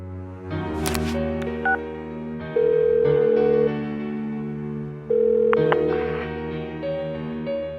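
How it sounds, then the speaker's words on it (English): Phone call ringing unanswered in the video game Persona 4 Golden: repeated electronic ringback tones pulse over steady game background music, several rings in a row with no pickup. "Give her another call."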